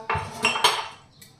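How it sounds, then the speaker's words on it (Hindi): Dishes, pots and cutlery being washed in a home kitchen, with a few close clinks and clatters of metal utensils and utensils knocking together over a short stretch, with no talking. "तो बस अभी मैं फटाफट बर्तन साफ कर लूँ"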